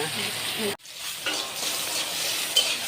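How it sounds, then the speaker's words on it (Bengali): Fish fry in hot oil with a steady, close sizzle that cuts out abruptly for a moment before resuming, accompanied by light clinks of a utensil. "এখন মাছগুলো ভেজে নিচ্ছে"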